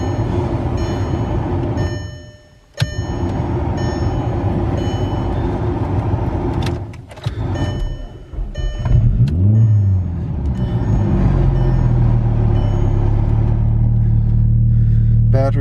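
A 2008 VW R32 with a 3.2 V6, AWD, 201,000 miles and a weak battery, running up close: a steady engine rumble, a brief dip and a sharp click, then a rising surge around ten seconds that settles into a louder, even drone.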